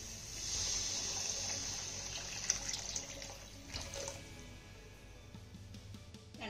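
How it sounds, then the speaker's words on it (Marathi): Hot water poured from a glass into a simmering curry gravy for stuffed brinjal rolls, a steady close splashing pour lasting several seconds that tapers off, with no talk over it. "तर इथे मी 2 ग्लास पाणी घालते"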